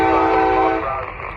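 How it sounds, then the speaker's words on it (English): A short freight train crossing a high trestle over the city at Kenova sounds a loud, sustained horn blast that softens over a second and a half, with rumbling underneath. "It's just a little short train."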